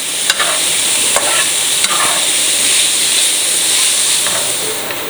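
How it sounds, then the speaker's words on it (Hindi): Minced chicken keema frying in a pan for lasagna, a loud continuous sizzle and hiss with a few sharp clicks of stirring scattered throughout. "तो अभी हम इसके अंदर कीमा ऐड करेंगे। अभी इसको भी अच्छे से पकाएंगे।"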